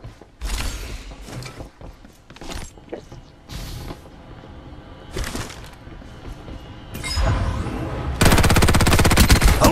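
Gunfire in the battle royale game Farlight 84: bursts of rapid shots and single cracks, ending in a loud sustained automatic stream near the close.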